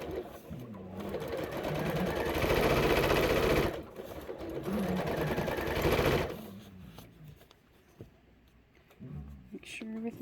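A sewing machine stitches a quilt block seam, starting out in the seam allowance, with two long runs of rapid, steady stitching close up, separated by short pauses, then quieter handling afterward.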